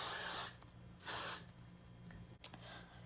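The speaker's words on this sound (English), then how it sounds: "I'm going to take some of this Got to Be Glued spray and set it" Got2b Glued hairspray misted onto a body wave wig in short hissing bursts, two longer sprays then a brief click and faint spritz, close and clear with no talking.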